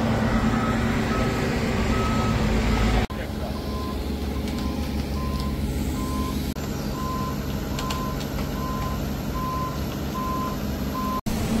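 A 30-ton excavator rolls slowly off a truck trailer beside a road, with regularly spaced reversing beeps sounding over heavy diesel engine rumble, continuing steadily from near throughout.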